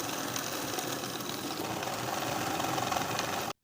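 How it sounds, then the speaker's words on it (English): A sewing machine stitches buttonholes into a skirt piece, its motor running in a steady, continuous mechanical whir for several seconds before stopping abruptly, with no talking. "Now I'll sew the buttonholes in place."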